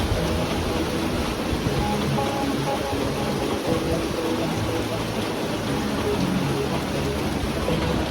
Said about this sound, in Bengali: এখন আবার হঠাৎ করে ঝড় সহ বৃষ্টি শুরু হয়ে গেছে